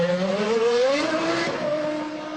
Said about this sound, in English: We're just going to wait while Jos Verstappen comes out the garage.